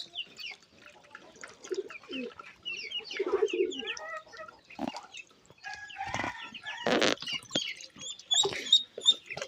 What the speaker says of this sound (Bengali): অনেক সুন্দরভাবে গোসল করতেছে হাঁসের বাচ্চাগুলো।